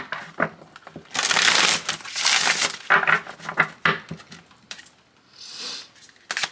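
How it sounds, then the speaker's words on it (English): Tarot cards riffled and shuffled by hand in a tarot reading, giving dense papery bursts of flicking and slapping that swell and fade in several waves, close by and fairly loud, with no talking. "Last shuffle."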